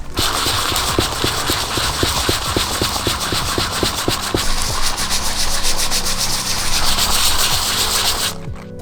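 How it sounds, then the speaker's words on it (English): Steady close-up sanding of the raised lettering on an AE86 valve cover with a sanding block, a continuous loud abrasive rasp with quick back-and-forth strokes, stopping just before the end. "We're just gonna sand away the top layer on the writing here on the valve cover."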